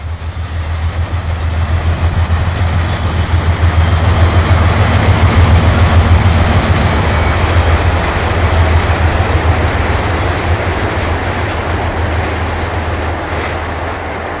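An ALCo RS-3 diesel locomotive hauls a Long Island Rail Road Oyster Bay train of P-54 coaches near Fresh Pond Yard. Its loud, steady low engine drone rolls past with rail noise and slowly fades toward the end.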